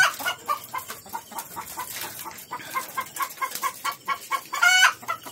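Chickens cluck repeatedly in short, uneven bursts, fairly close, with a few louder squawking calls mixed in among the steady clucking.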